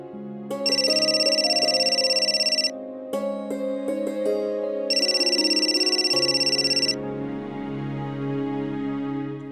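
A telephone ringtone in a Hindi TV drama scene sounds loudly and alone, a repeating electronic melodic tone pattern with bright high bursts that start, pause and resume across several seconds.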